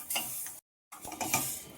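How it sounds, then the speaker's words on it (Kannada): Fenugreek seeds dry roasting in a pan give a soft crackling, scraping stir that cuts out briefly to silence, then resumes with close clinks and rattles. "ಇದನ್ನು ಡ್ರೈ ರೋಸ್ಟ್ ಮಾಡ್ಕೊತಾ ಇದ್ದೀನಿ"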